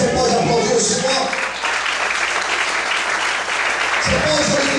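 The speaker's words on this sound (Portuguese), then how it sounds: "Você pode aplaudir o Senhor," Church congregation applauding during a Portuguese-language sermon, a steady wash of clapping filling the room with organ or music tones underneath and some voices mixed in.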